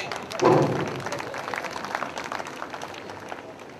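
Applause from an audience, a burst of clapping that swells early and then settles into a steady patter.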